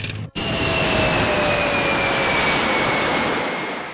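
A steady, loud airplane engine roar with a high whine running through it, constant throughout after a brief dropout at the very start.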